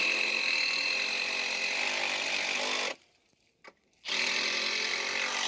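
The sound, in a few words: power drill drilling during fence repair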